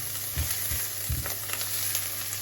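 Minced garlic sizzles in a pan, a steady bright frying hiss broken by a few low thumps and scrapes as it is stirred, with no talking.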